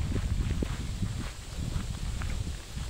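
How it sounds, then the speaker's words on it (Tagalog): Steady, rumbling wind at Shing Mun Picnic Site, on a hike to Pineapple Dam, buffets the microphone throughout, a dense low roar with occasional gusty thumps and no clear voices. "Lakas ng hangin."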